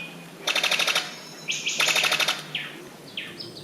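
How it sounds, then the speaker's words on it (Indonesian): Birds call in a Papua rainforest: rapid rattling trills in two bursts, with shorter whistled notes between and after them, clear and fairly close over a quiet background. "Over 600 species of birds are found in Papua, including the birds of paradise"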